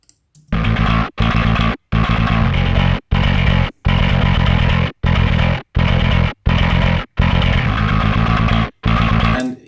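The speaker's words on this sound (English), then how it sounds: "pretty much full-on distortion channel that I am blending in to add some" Heavily distorted bass guitar through a Darkglass Ultra plugin plays loud, gritty sustained notes in short phrases separated by brief silences, with the distortion channel blended in.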